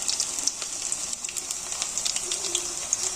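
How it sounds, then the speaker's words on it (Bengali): Pumpkin flower fritters frying in a wok of oil, a faint steady hissing sizzle with small scattered pops and crackles, no talking. "বড়াগুলো একটা একটা গোল গোল শেপ করে কড়াইতে ছেড়ে দিচ্ছি"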